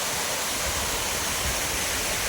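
Waterfall and water flowing down over rocks toward a second fall, a steady, loud broadband rush with no other sound.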